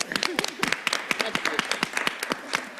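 Attendees at a school board business meeting clap in a sparse, uneven patter of distinct individual claps, close and fairly loud, with voices talking among them.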